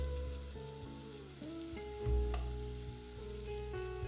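Ginger garlic paste and kasuri methi fry in hot oil with a soft, continuous sizzle, a few stirring scrapes and a brief thump midway, fairly quiet and close.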